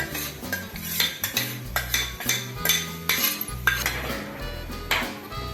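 A spoon stirs cabbage stir-fry into sambar in a metal pot, producing repeated loud clinks and scrapes against the vessel in an uneven rhythm, close up with no talking.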